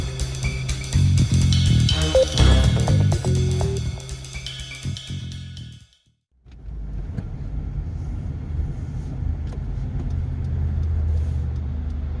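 Manual-transmission car being driven, heard as a steady loud interior engine and road rumble that drops out briefly, as if during a gear change, then resumes at an even level.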